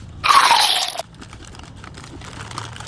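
A crisp potato chip is bitten close to the microphone, giving one loud, sharp crunch that lasts under a second. Quiet, faint chewing and room noise follow.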